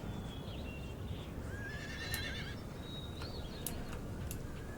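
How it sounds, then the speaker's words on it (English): Cavalry horses whinny several times in the Empire: Total War strategy game, with rising and falling neighs over a steady battlefield rumble and a little clip-clop of hooves. "It's a regiment of horse."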